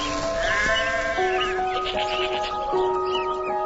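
A lamb bleats repeatedly and loudly up close, wavering, drawn-out cries following one after another with little pause and no talk over them.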